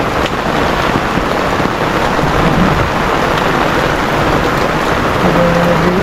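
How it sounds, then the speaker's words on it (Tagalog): Heavy rain pours steadily in a dense, roaring hiss, with deep thunder rumbling underneath throughout. "Ulan. Grabe ulan nga."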